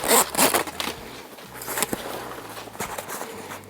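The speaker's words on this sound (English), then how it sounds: "It's double zipper, let's close it." A zipper on a North Face Borealis backpack is pulled closed in several quick, rasping strokes with small pauses between them, heard up close and on its own.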